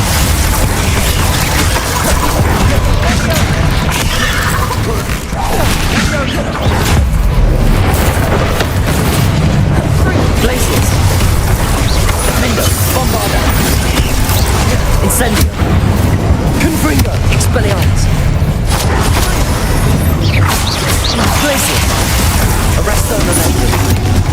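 Spell blasts and explosions in the game Hogwarts Legacy, a dense, loud barrage of booms and crashing impacts that runs continuously, mixed with combat effects and voices.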